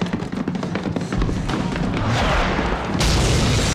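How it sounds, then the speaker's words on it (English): Mortar shells exploding on houses in a wartime drama, a close series of deep booms and blasts with rumbling debris that builds into one sustained roaring explosion, with no talk. "I guess they just periodically mortar like the houses and stuff to keep everyone on their toes"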